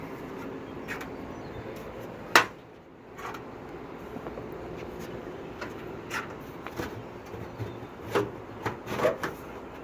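A metal lid is worked off a Cook exhaust fan, with a sharp clank early on, then scattered scraping and rubbing knocks over a steady low fan-like hum, close and moderately loud.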